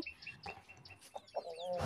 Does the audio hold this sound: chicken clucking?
yes